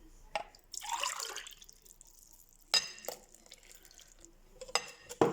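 A glass of water is poured into a cooking pot of karantita, a short gush followed by quiet dripping, with glass and pot clinks sounding up close afterward.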